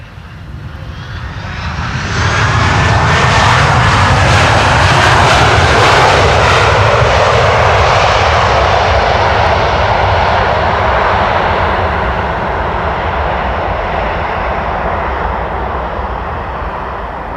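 A Delta Airlines jet arriving at Amsterdam Schiphol roars in from a distance on a windy day, the engine noise swelling to a loud, broad rumble and holding for many seconds before slowly easing, with no voices over it.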